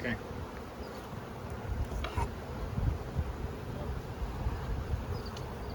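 Honey bees fly in and out at the entrance of a Langstroth hive, making a dense, steady buzzing swarm sound close by, with a few louder passes and no talk.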